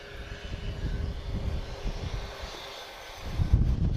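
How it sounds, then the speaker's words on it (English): An Iberia airliner rolls out on a full-length runway departure at Lisbon Airport, its engines a steady distant low roar that swells louder near the end, with wind rumble over the microphone. "Iberia is going to give us a full runway departure as well"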